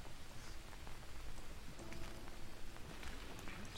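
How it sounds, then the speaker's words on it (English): Rain in the jungle survival game Green Hell, a steady faint patter on surfaces with soft rustling and no talk. "Should be used to this weather. You know, it's raining everywhere."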